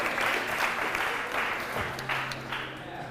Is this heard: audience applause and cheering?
yes